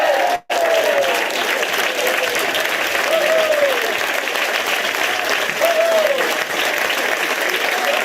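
Crowd applauding at a Mark Carney political event: sustained, dense clapping from a large audience, with brief indistinct voices rising over it at moments.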